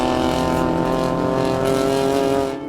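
Race cars without exhaust systems roar past during a 24-hour endurance race, a loud, harsh, steady engine drone with dense harmonic buzz that fades slightly at the end.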